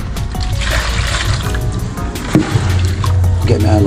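Water pours and splashes into a cooking pot in an outdoor Jamaican kitchen, with a steady trickle and gurgle beneath someone talking.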